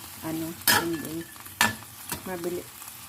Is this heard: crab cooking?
yes